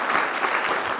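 Audience applause for round-table panelists at a construction-industry discussion: a brief, dense burst of many hands clapping together, a smooth continuous roar with no voices.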